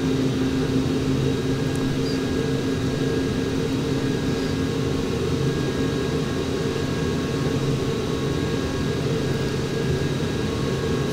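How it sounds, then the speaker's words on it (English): Simulated aircraft engines held at full takeoff throttle in Flight Simulator X, a steady, dense roar with a constant low rumble and faint high whine, unbroken and loud throughout with no talk. "We can go ahead and full throttle."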